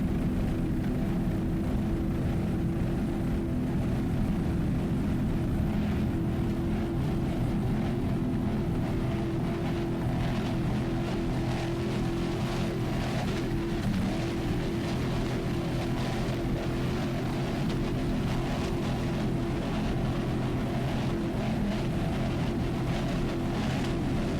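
A 38-foot Fountain racing powerboat with Vortec power, running in a Super V Light twin class at Key West, roars past as a loud, steady engine drone that holds without a break the whole time.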